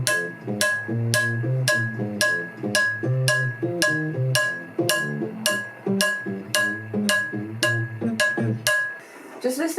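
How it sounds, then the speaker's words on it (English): Recorded electric bass line leaping between octaves in a punchy, repeating pattern, locked to steady percussive hits with a bright tick on each beat; loud, close and continuous for about ten seconds with no talking. "The amazing thing I like about this bass is that it really pops."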